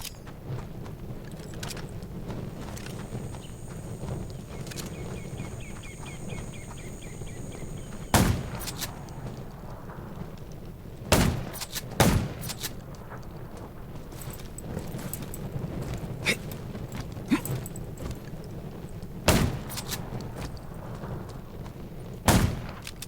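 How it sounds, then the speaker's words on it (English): Sharp, isolated video game gunshots from the zombie survival game Undawn crack out one at a time at irregular intervals over a low steady rumble, about eight shots in all. "Gunshots will attract more zombies."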